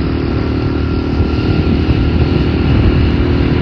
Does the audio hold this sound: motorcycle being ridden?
yes